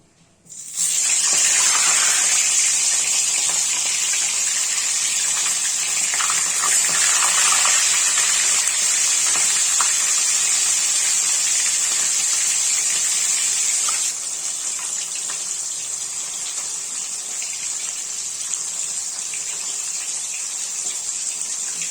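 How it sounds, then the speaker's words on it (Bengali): Koi fish slide one by one into hot mustard oil and fry with a loud, steady, close sizzle that holds for about twenty seconds, easing slightly in level partway through. "সরষের তেলটা ভালো করে গরম হয়ে গেলে মাছগুলোকে আস্তে আস্তে ছেড়ে দেবো।"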